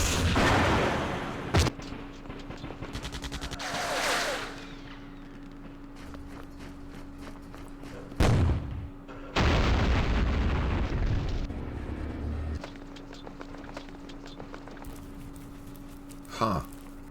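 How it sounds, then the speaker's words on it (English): Artillery barrages land on units in the Vietnam wargame Campaign Series Vietnam, Dien Bien Phu: several loud booming impacts, with sharp bursts near the start, middle and end, over a steady low game hum and rumbling background. "We should get hit by artillery."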